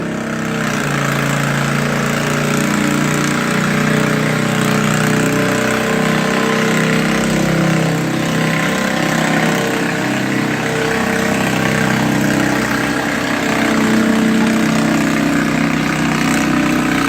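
Vintage belt-driven tractor engine running at an antique power show, a steady loud mechanical drone with chugging low rumble, holding evenly for the whole stretch.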